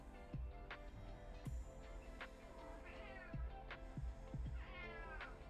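Two or three clear cat meows rise over a steady background hum and soft tapping during a sculpting session, with no one talking over them.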